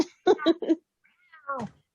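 A pet cat meows close by: a quick run of three or four short meows, a pause, then one longer drawn-out meow, with no talking over it.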